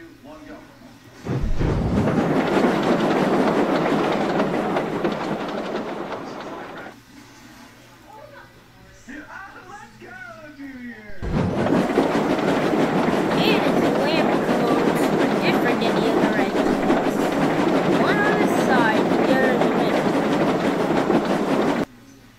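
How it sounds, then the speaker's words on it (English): A goods train rumbles along rails with a rhythmic clickety-clack, loud and close, easing to a quieter spell midway before surging back at full strength. "Reginald was a personal goods train, so he collected goods from the yards"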